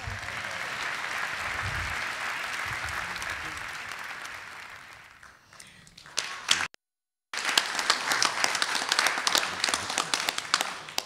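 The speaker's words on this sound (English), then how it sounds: "Give him a big round of applause." A university audience gives a round of applause, sustained clapping that fades, cuts out briefly and then comes back strong and crisp through to the end.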